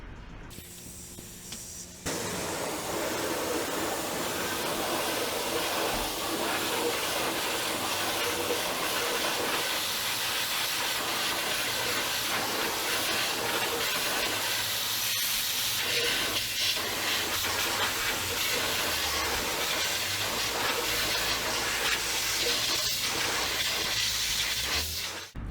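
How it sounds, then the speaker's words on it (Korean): High-pressure water sprays against painted car wheels, a loud, continuous broadband hiss lasting over twenty seconds with slight fluctuations and no voices. "이제 고압수도 잘 견뎌내는지 확인해 보겠습니다"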